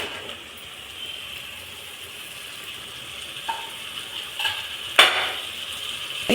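Crabs stirred into a masala in a pan for Andhra-style crab curry, a soft steady sizzle with scraping stir strokes and a sharper clatter near the end, close and moderately quiet.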